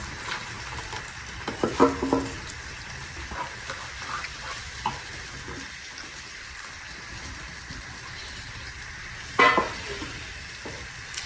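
Tomatoes and masala for Bombay-style pav bhaji sizzle softly in a pan, with a few louder scraping stirs early on and another near the end against a constant low frying hiss.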